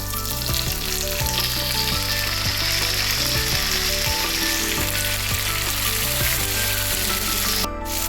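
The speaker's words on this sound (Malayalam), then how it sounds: "ഇനി നമുക്ക് നമ്മുടെ മെയിൻ ഐറ്റം തക്കാളി ഇട്ട് കൊടുക്കാം" Tomatoes hitting a pan of hot oil with browned garlic for a tomato pickle, producing a loud, continuous close sizzle with rhythmic spatula clatter throughout, no talking.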